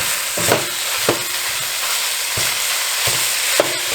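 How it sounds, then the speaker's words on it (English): Ground beef, Italian sausage and onions fry in a Dutch oven, a steady close sizzle broken by several scraping stirs of a utensil against the pot. "we're going to go ahead and mix this around, and we're going to cook this until all the meat is browned together with the onions in the pan"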